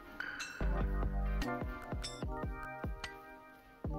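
Chunky glitter being stirred into an acrylic mixture in a container, giving a series of bright clinks and taps with a short rattling shake, close and fairly loud with no talk.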